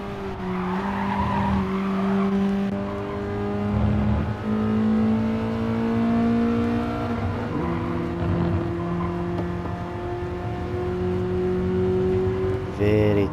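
On-board engine of a classic BMW touring car racing in a championship practice, revving high and climbing through gears in long sustained pulls with brief tyre squeal, a commentator speaking over it.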